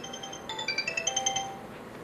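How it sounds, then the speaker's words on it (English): A phone rings softly at close range, a short run of bright electronic ringtone notes over faint room noise. "Phone's ringing."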